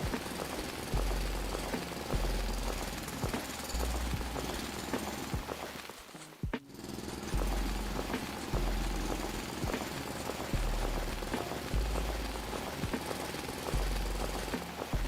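Hacking away land in the game Foundry makes a dense, harsh grinding roar with a rapid regular pulse like a jackhammer, loud and continuous, broken by one brief dip and a sharp crack midway.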